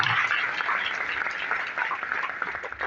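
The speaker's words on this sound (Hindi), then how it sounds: "एक बार जबरदस्त ताली होनी चाहिए" Steady applause from a seated crowd in a hall at a company event, fairly soft and even, a dense patter of hands continuing for a few seconds.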